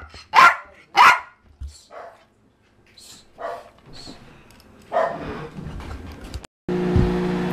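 Several dogs bark in sharp bursts at a kennel late at night, two loud close barks first, then scattered quieter yaps and a growl, ending in a steady mechanical hum.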